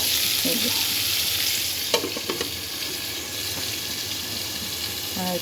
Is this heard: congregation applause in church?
no